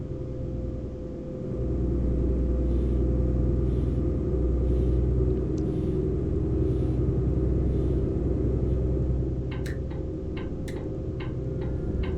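A Mercedes-Benz Travego coach driven in Euro Truck Simulator 2 gives a steady low engine rumble throughout, with a rhythmic ticking like a turn signal joining near the end.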